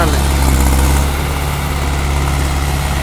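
A Mahindra 475 tractor with a tiller attached runs with a steady, loud low-pitched engine drone that holds constant throughout, with no voices audible over it.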